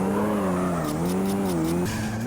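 A race car in Street Racing Syndicate skids with a loud, wavering tire squeal that runs for about two seconds over the engine, with no talk.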